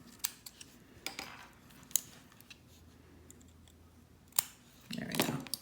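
Small scissors snipping stray cotton wick wisps on a Wotofo Profile RDA: several sharp separate clicks and snips close up, ending in a brief louder rustling cluster, with no speech.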